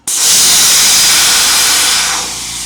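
Compressed air rushes loudly out of a Husky 2-gallon quiet compressor in one sustained, steady hiss that begins abruptly and eases slightly toward the end, with no voices.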